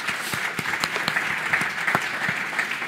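A live audience at a public round-table discussion on housing renovation applauds, giving continuous, fairly close clapping with distinct sharp claps over the wash.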